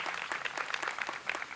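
A crowd gathered for a library branch opening applauds in a short, even patter of many hands clapping, steady and moderately loud.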